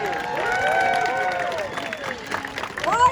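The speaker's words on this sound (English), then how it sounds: "Why are you clapping?" A live audience claps and cheers at a lumberjack show, the applause swelling in the first half and then thinning into scattered claps while someone talks over it.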